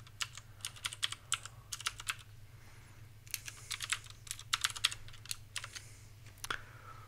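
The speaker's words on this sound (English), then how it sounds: "I'm just going to type" Fingers typing on a computer keyboard while a Halloween concert flyer is made in Google Docs, with irregular bursts of quick, close key clicks and brief pauses between them, no talking.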